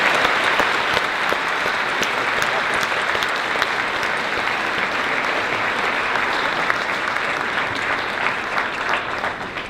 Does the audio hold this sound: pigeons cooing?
no